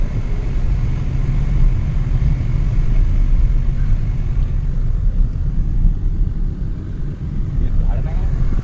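A car rolls in to park at the entrance gate of a dargah, its steady low engine rumble and road noise continuous throughout at close range.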